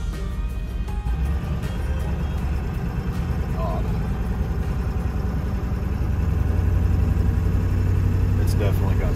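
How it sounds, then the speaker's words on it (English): Rough, uneven idle of a diesel pickup truck engine after a hard highway run with suspected clogged fuel filters; a steady low rumble that grows slightly louder near the end, with faint talk in the background. "I think the fuel filters need changed because we just ran it 2 miles up the interstate on the floor and now it's idling funny."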